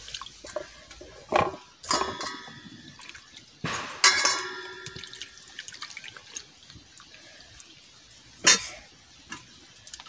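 A bottle gourd being rinsed under running water at a kitchen sink, splashing in short uneven bursts with drips and handling noises between them, fairly close, no talk.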